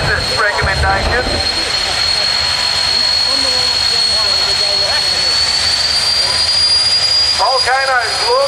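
Jet engines run up to about 80% of maximum RPM give a steady, loud, high-pitched whine with a broad roaring rush beneath, holding constant throughout while someone talks over it.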